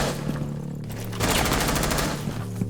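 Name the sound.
gunfire shooting a hole in video game Rainbow Six Siege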